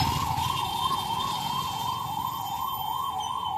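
A police siren wails steadily on a loud, continuous rising-and-falling tone during a Ganesh festival street procession in Vijayapur, with low crowd and traffic rumble beneath it.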